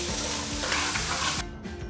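Diced mirepoix vegetables tipped into a pot over seared beef give a steady, close frying hiss with scraping and stirring; the sizzle drops sharply near the end.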